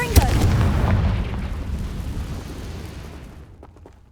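A single loud blast from the Confringo fire spell in the video game Hogwarts Legacy, a sharp crack followed by a long rumbling boom that slowly fades to quiet over several seconds.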